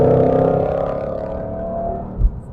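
A 2022 Ford Mustang Shelby GT500 Heritage Edition engine pulls under light throttle from inside the car, a steady low harmonic drone with a brief thump near the end.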